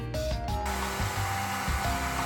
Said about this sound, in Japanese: ドライヤーで温めてエアーを抜きます